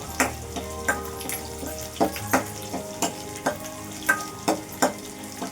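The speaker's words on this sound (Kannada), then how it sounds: "ಈರುಳ್ಳಿ ಎಲ್ಲ ಹಾಕಿದ್ಮೇಲೆ ಮೀಡಿಯಮ್ ಉರಿಲಿ ಇಟ್ಕೊಂಡು ಫ್ರೈ ಮಾಡ್ಕೊಳ್ಬೇಕು" Onions frying over a medium flame for a gherkin and chickpea dry curry, a soft background sizzle punctuated by regular scraping stirs of a spatula against the pan, close and quiet, with no talk.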